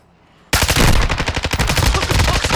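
Call of Duty gunfire erupts suddenly after a quiet moment: loud, close, rapid automatic bursts with a fast, even rhythm of shots.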